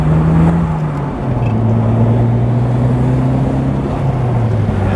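A 1995 Toyota Celica GT-Four ST205 engine droning steadily while driving, a continuous low hum whose pitch shifts down and then climbs slowly as the car pulls through a gear, loud and close with no talking.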